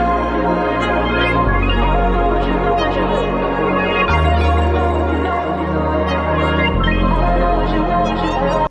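An R&B melody built in FL Studio, layered with plugins and effects, plays loud and dense on its own with sustained bass notes and several chord changes.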